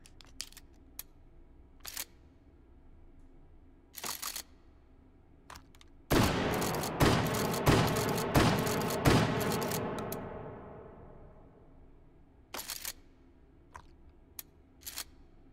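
A shotgun firing in the VR shooting game Hot Dogs, Horseshoes & Hand Grenades, with a rapid string of loud blasts that trail into a ringing decay, surrounded by scattered sharp mechanical clicks and clacks of loading and handling.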